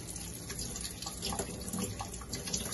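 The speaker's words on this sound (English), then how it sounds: "I'll also wash these claws just in case there's some residue, sand or something there on it, so it'll wash off." Blue crab claws are rinsed under a running tap, a steady, close rush of water that keeps going without a break.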